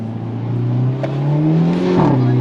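Engine of a Hyundai Elantra N accelerating from inside the car, a steady droning growl that climbs gradually in pitch, loud and continuous with no talk over it.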